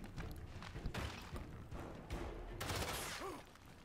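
Overwatch units in Gears Tactics open up with a dense burst of gunfire, shots and thuds overlapping in a continuous clatter with bright crackling bursts near the middle and end.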